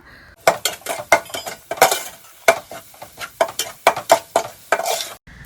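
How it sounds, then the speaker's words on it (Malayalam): A spoon scrapes and clinks rhythmically against a pan as spice powders are stirred and sautéed for chicken biryani gravy, with about two dozen sharp, close strokes over a faint sizzle. "നന്നായിട്ട് സിമ്മിലിട്ടിട്ട് നന്നായിട്ട് വഴറ്റി ഇങ്ങോട്ട് എടുക്കുക"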